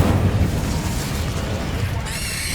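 An Incendio fire spell cast in the Hogwarts Legacy video game erupts as a loud, dense roaring burst of flame that sustains for a couple of seconds, booming and close.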